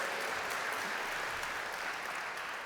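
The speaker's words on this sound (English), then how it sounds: "Oh yeah, that got a round of applause." Steady applause from an audience at a city panel talk on Sydney's future, dense and even throughout, fairly distant and moderately loud, with no voices on top.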